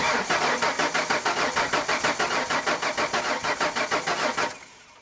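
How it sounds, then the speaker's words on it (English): A 1994 Ford F150 with a 4.9L inline-six engine cranks over in a fast, steady rhythmic churn for several seconds without catching, with no spark, then stops. "So let's try to start the truck now and see if we have any spark."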